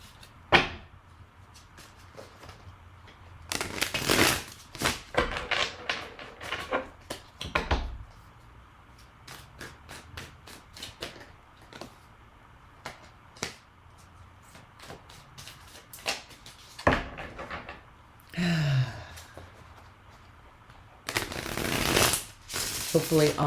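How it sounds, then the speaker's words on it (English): Tarot cards are shuffled close by in a long run of soft riffles, taps and flicks, with occasional louder bursts and handling noises. "we are going to do a shuffle of the cards"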